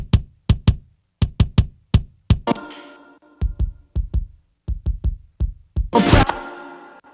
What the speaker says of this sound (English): So what you're hearing is a sample of the kick that we recorded.